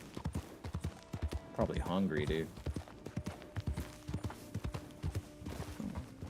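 Horse hooves clip-clop in a steady rhythm in a video game, close and clear, with a brief whinny partway through while someone talks over the sound.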